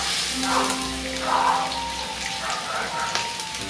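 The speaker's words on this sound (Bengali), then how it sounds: "এইবার হচ্ছে চিকেনটা দিয়ে দেবো" Chicken pieces fry on low flame in a mix of butter, ghee and white oil for a pineapple kebab dish, giving a steady, close crackling sizzle like rain on a surface that continues throughout.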